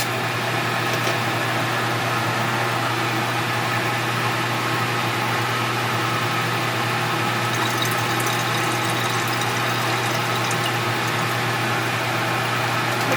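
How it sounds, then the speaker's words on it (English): Waste liquid from gold refining pours steadily into a jug, a continuous watery rush with a steady low hum underneath, fairly loud and unbroken with no talking. "Pour that right into the jug,"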